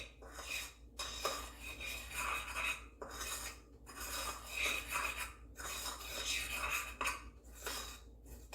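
A utensil stirs caramel in a pot for caramel nut popcorn. Repeated scraping strokes run in a steady rhythm, each broken by a short pause.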